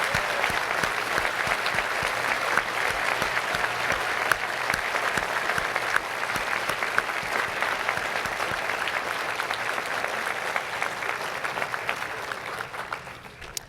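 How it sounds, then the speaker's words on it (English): An audience at a school prize day ceremony applauds steadily for the faculty, a dense, even clapping that carries on for many seconds before tapering slightly. "Please join me in a round of applause and appreciation for the dedication and skill that each of these faculty members"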